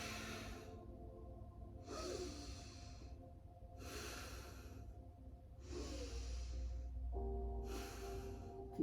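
Slow, deep yoga breaths repeat five times in a steady rhythm, each a long airy inhale or exhale through the nose and mouth, close to the mic over a low steady hum, with no talking.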